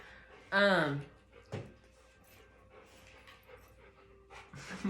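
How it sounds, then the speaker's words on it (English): Excited pet dogs pant and play tug of war indoors, with a loud burst of whining or vocal noise early on, then scuffling and panting at close range, with a brief voice-like sound near the end. "my dogs are just insane right now"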